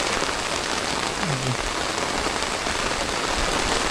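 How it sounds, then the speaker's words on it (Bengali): Heavy rain during a spring downpour pours down in a loud, dense, constant roar throughout, with a faint short call briefly rising above it near the middle. "বৃষ্টি এখন আরও বাড়ছে"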